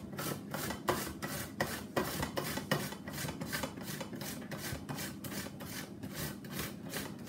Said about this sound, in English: I've got 140g of cucumber here and I'm just going to grate it